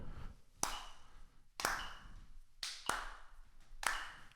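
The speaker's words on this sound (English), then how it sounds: "if we clap the quarter notes, I'm going to count to 4 and then we'll clap" Four crisp hand claps land on a steady quarter-note beat, evenly spaced with short gaps between them, during a music lesson on note values; no one talks.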